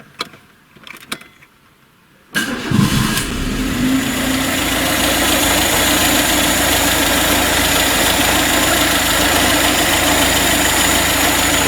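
A 1.5-litre car engine with 185,000 km, misfiring and knocking, cranks after a quiet moment and catches, then settles into a loud, close, uneven idle with a rough, shaking rumble that runs to the end.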